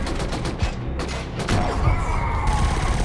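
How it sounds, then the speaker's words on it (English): Gunfire in the video game Killzone Shadow Fall during a space base raid: loud, close bursts of rapid shots crackling back to back, with a sustained ringing tone rising underneath in the final second. "there was gunfire from the next room"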